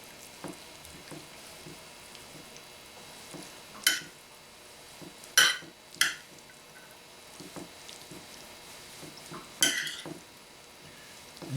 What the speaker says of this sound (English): And now we take our wasabi sauce and add and mix that to the pasta.